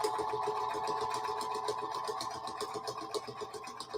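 A sewing machine stitches through nine thick layers of feedsack fabric, a rapid, even mechanical whir with a regular pulsing rhythm, fairly close and on its own.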